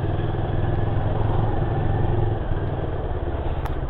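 A Kawasaki NK400 motorcycle being ridden, its engine droning steadily and loudly up close with a continuous throb and some wind rush, no speech over it.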